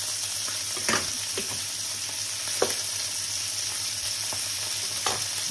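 Food frying in butter in a pan, a steady broadband sizzle with a low hum underneath and a few brief scraping stirs, close and even throughout with no talking.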